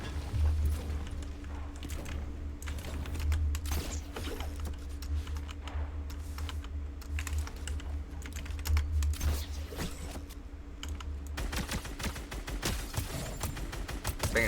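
Rapid typing on an oversized computer keyboard, dense continuous key clatter throughout under a steady low hum, with sharp gunfire-like bursts from a shooter game mixed in.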